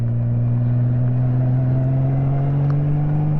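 Steady engine drone while out on a solo Memorial Day ride, a constant low hum with a whirring layer, continuous and close throughout with no talking.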